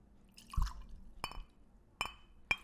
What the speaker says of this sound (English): I botched the hell out of that pour, and also poured way too much